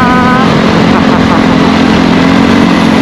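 A Honda ADV150 scooter engine idles steadily after starting, a constant low hum running close by for the whole stretch while a voice talks over it.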